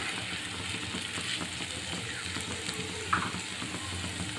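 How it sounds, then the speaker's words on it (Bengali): Vegetable noodles are stirred and mixed in a hot frying pan, giving a steady close-up sizzle with occasional soft scrapes and one brief clink. "এখন এগুলো আমি ভালো করে মিশিয়ে নেব।"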